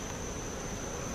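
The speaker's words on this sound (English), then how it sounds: "So let's see how hive number 1's doing." Honeybees buzz around a hive during a July inspection after overnight rain, a steady close hum with no letup.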